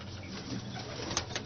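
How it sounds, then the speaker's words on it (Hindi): Kamagar pigeons in a cage give low, throaty coos, with a couple of brief brighter flutters or chirps near the end. "ये कमगर कबूतर देखें आप, इन्हीं के बच्चे मैंने लगाए हैं।"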